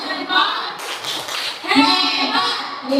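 A group of teachers claps in a thumb-clapping routine, a quick run of light claps, close and fairly loud, while voices chant along in rhythm.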